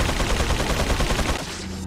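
Rapid gunfire from the video game Resident Evil 4, a loud, dense burst of shots running continuously for nearly two seconds before tapering off at the end.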